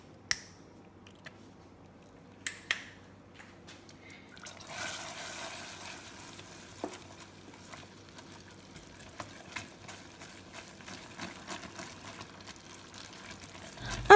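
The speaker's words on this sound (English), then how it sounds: "I'm going to let these bubbles calm down for about 1 minute and then dip my apples." Pink candy apple syrup cooked to 300 degrees in a pot gives off a soft, continuous bubbling sizzle, faint and close. A few sharp clicks and taps break through it.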